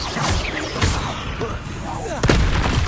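Incendio fire spell cast in the video game Hogwarts Legacy, heard as loud booming whooshes and bursts of flame that repeat in quick succession, with a heavy blast near the end.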